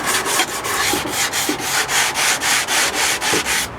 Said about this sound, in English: Or you can just get one of these rubber blocks, give it a quick sand down,